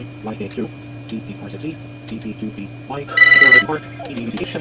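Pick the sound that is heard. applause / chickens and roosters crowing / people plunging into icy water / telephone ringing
telephone ringing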